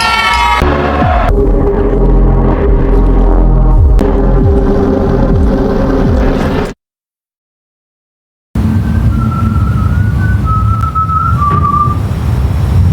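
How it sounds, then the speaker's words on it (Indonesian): Loud, close whistling with a wavering melody over a low rumbling hum, cut by a couple of seconds of silence before fainter whistled notes return. "Hana langsung terbangun saat mendengar suara siulan yang terdengar begitu dekat."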